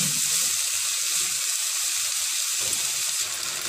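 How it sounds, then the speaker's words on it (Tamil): Vegetables for veg fried rice sizzle steadily in a pan, a continuous bright hiss with soft crackles, close and moderately loud, with no talking. "இதை மூடி வச்சுருவோம், கொஞ்சம் நல்லா வதக்கட்டும்."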